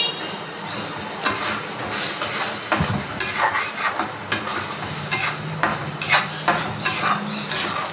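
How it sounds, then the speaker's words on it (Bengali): Onions frying in a pan as they are stirred for a mutton dish, a steady sizzle under repeated scraping and clinking of a spoon against the pan, with no talking. "পেঁয়াজটাকে একটু নাড়াচাড়া করে নিচ্ছি।"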